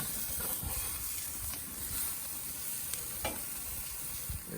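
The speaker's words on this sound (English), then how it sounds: "So now we're gonna carefully and gently flip them over" Juicy Lucy hamburgers sizzle steadily on a hot grill as they are flipped, a continuous close frying hiss with a few soft scrapes and no talking.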